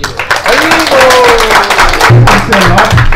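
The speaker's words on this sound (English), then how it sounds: "So let's give a big round of applause." An audience at a talk gives a loud round of applause, dense continuous clapping from a crowd heard close and strong, with some voices and a low murmur mixed in.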